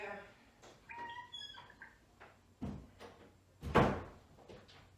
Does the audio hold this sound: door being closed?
yes